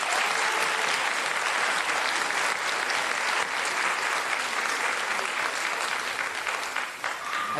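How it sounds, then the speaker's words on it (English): Sustained, loud applause from a large audience at an elementary school fourth grade promotion ceremony, a dense steady wash of clapping that holds for several seconds before easing slightly near the end. "Let's have a big round of applause for our fourth graders."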